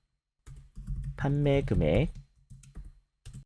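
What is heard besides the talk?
computer keyboard keys pressed (Alt, A, C shortcut)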